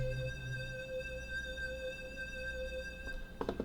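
A sustained synth lead from a self-made music production holds one bright steady tone with stacked overtones, fairly quiet, with a few clicky percussive hits near the end and no voice.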